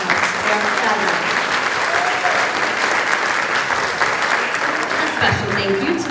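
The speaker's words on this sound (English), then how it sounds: "How about a round of applause for the Lions Club?" A pageant audience gives loud, sustained applause for the Lions Club, a continuous roar of clapping that stays steady throughout, with a few voices and cheers mixed into the crowd.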